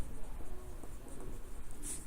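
Marker or pen scratches on a board while vectors are written out by hand, a faint, continuous scraping with small irregular strokes, close and alone without talk.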